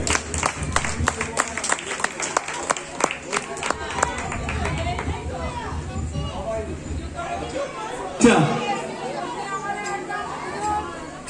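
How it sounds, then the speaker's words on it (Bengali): Audience applause at an honouring ceremony, brisk clapping from a crowd that fades into murmuring chatter and voices, with a single loud knock near the end. "একটা জোরে হাততালি হবে এবার।"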